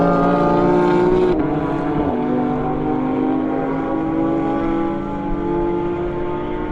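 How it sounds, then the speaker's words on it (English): A GT race car is driven through the penultimate corner, turn 20, at Autodrom Most during a GT Cup sprint race, its engine a loud, steady, close drone with a gear change early on. "You can see how he wrestles the car through the penultimate corner, turn number 20."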